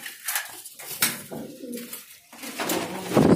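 A large pigeon at a pigeon shop in Delhi gives throaty coos in short close bursts, with some shuffling and handling noise around it.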